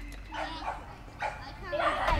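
Dogs barking in short, yelping bursts close by, with several quick barks and a whimpering edge rising toward the end as people talk nearby.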